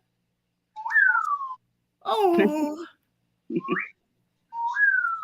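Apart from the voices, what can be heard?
wolf whistle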